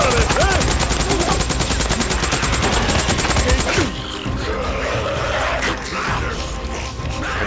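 Rapid gunfire bursts from the video game Days Gone, loud and dense for the first few seconds, then breaking off into quieter scattered sounds and distant shots.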